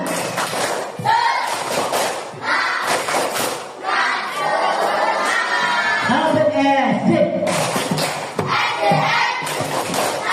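A classroom of students performs a spirited clapping chant, with bursts of rhythmic clapping and thumping mixed with loud group chanting, shouts and whoops that rise and fall in short phrases over about ten seconds.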